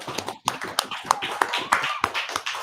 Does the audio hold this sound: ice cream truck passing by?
no